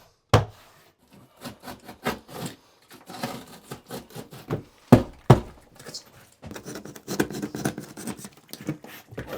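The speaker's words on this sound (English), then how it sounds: "Basically slide this right down to the top of that flange." A foam tile backer board for a tub surround slides down onto the tub flange with close scraping, rubbing and soft knocks in irregular bursts, some sharper thumps standing out.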